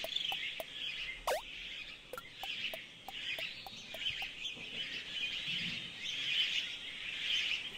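Birds chirping in the video game Iconoclasts, repeated quiet high tweets and short calls in an irregular pattern over a faint, steady ambient background.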